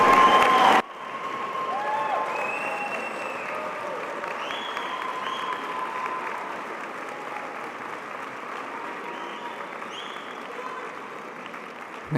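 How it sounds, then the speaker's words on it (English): A commencement audience applauds graduates of a medical school in steady, sustained clapping that fills a large hall. A few faint cheers and voices rise within it. "You folks stand up, turn around and give these folks a big hand"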